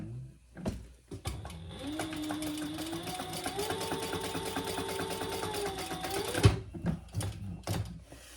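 Sewing machine stitching across the bottom of a wallet's card slot: a short burst, a pause, then a steady whirring run of several seconds that rises slightly in pitch before stopping, followed by soft handling clicks.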